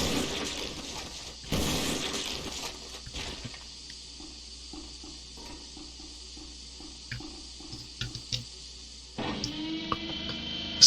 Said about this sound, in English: Smashing into cacti too.